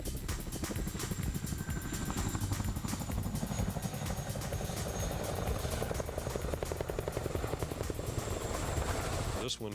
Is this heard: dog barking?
no